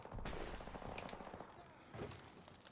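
A quick cluster of M9 pistol gunshots in Modern Warfare Remastered multiplayer, loud and close in a short burst amid game noise.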